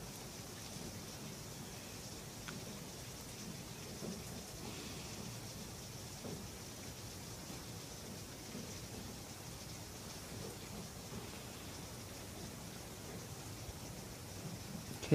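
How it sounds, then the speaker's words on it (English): Heavy rain pours steadily outdoors with faint distant thunder rumbling underneath, a soft, even wash of noise heard indoors at low level with no talking. "if you guys can hear it, it's raining a lot here."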